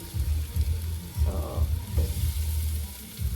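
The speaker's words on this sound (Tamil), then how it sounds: "முதல்ல சிக்கனை போட்டு மசாலாவோட பெரட்டணும்" Chicken fries in a pan with masala and is stirred: a steady close sizzle under repeated rhythmic scraping and stirring strokes of a utensil, with no voices.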